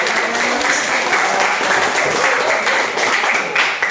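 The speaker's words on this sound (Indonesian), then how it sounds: "kita berikan aplaus" A group in a counselling training session gives a round of applause, dense and continuous clapping filling the room for several seconds.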